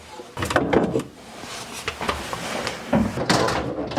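Plastic drawers are pulled out of a Samsung refrigerator, giving a few scraping slides and clunks at close range, separated by short quiet gaps.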